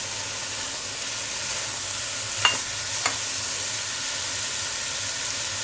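Fried chicken being stirred into egg fried rice in a pan, a steady low sizzle with two brief scraping knocks near the middle, close and fairly quiet with no talking.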